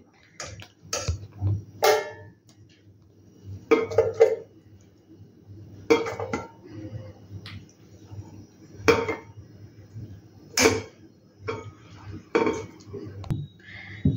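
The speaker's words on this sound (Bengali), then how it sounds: "এবার ফুলকপিগুলোকে জল থেকে তুলে নেবো ছেঁকে ছেঁকে।" Boiled cauliflower florets lifted out of water in a pot with a slotted spoon, producing intermittent close clinks and scrapes of metal on the pot with soft splashes and drips between them.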